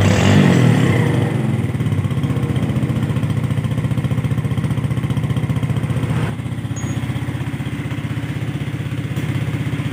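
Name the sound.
Yamaha Jupiter motorcycle engine running and revving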